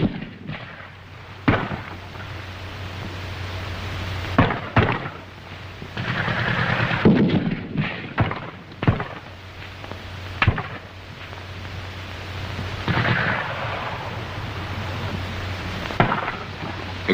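Grenade blasts and rifle and machine-gun fire during an infantry charge in a WWII battle against German forces, with repeated sharp bangs and booms at irregular intervals over a steady roar of combat.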